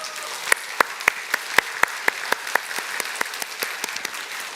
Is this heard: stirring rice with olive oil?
no